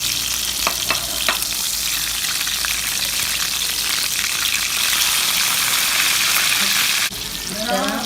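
Thin Peshawari chapli kababs fry in a pan with a loud, steady hissing sizzle that runs unbroken through the clip and cuts off sharply near the end.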